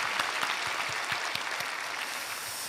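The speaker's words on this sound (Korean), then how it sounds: "우리 힘찬 격려와 축복의 박수 한번 보내주시겠습니다." A church congregation at a Sunday worship service at Sangdang Church applauds together, giving a broad, continuous wash of clapping from many hands that holds steady and moderately loud throughout, with no speech on top.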